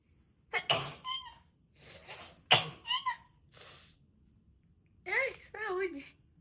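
A woman sneezes several times close to the microphone, sharp bursts separated by short pauses and breaths, with brief speech-like sounds between them.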